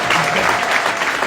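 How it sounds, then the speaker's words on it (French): Audience applause for a volunteer named Rachel at a stand-up comedy show at the Casino de Paris, a dense, steady wash of many hands clapping, close and loud throughout the brief burst. "Est-ce qu'on peut applaudir pour Rachel,"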